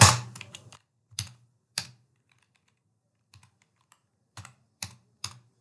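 Someone types an Excel formula on a computer keyboard in short bursts of crisp key clicks, a quick flurry first, then scattered single taps and small clusters separated by quiet gaps.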